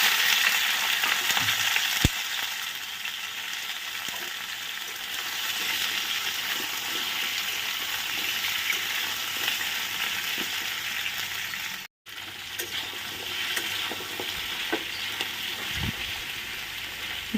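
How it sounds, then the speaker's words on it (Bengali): Vegetables frying in hot oil on a lowered gas flame, an even, continuous sizzle up close with a few sharp clinks and one brief cut, no one speaking. "প্রত্যেকটা সবজি কিন্তু ভালো করে আমি ভেজে নেব"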